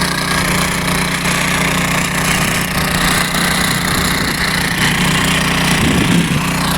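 A power tiller's engine ploughs a farm garden, running loud and constant with a rough, steady drone close by, uninterrupted throughout.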